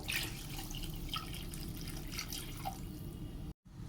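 Steady trickling and dripping water, close by, running continuously with a brief cut near the end, as water is added to a pan of yogurt curry with fish and elephant foot yam.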